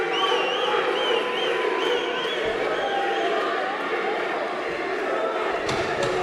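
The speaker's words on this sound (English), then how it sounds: "You can hear the chants from Gjini in the crowd" A large arena crowd at an MMA fight roars and chants in a sustained, rhythmic wave, with scattered thuds and shouts mixed into the dense noise.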